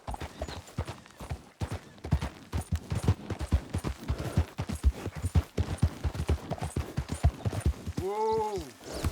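A horse gallops in Red Dead Redemption 2 with quick, rhythmic hoofbeats pounding close, and it ends in a brief whinny.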